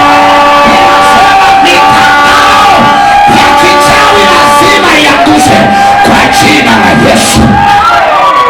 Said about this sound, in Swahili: Piga Yesu makofi na vigelegele.